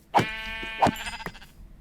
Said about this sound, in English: There's some more sheep, so we can kill them too.